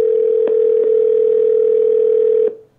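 A steady single-tone electronic hum on a phone line, loud and close, broken by faint clicks before it cuts off abruptly.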